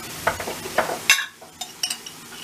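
A spoonful of tomato paste is stirred and sautéed in a pan, with a soft sizzle beneath several sharp scraping strokes of a spoon against the pan, close up with no talking.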